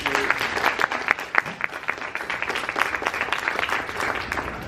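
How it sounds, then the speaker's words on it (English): Steady applause from a crowd at a graduation, many hands clapping at once in a dense, continuous patter that holds for several seconds. "Everybody please give a round of applause for all these graduates."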